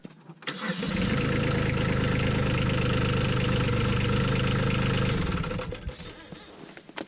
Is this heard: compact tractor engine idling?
yes